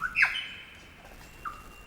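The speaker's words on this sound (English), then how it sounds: "the bird gives a series of whirs and clicks, as well as going through his repertoire of bird calls" A lyrebird in Tarra Bulga National Park gives a sharp, loud squawking call followed by a fainter, shorter one in a quiet forest.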